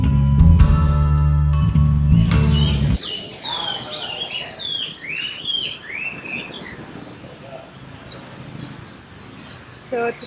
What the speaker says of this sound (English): it's apparently a tea house where you sit and have tea and listen to the birds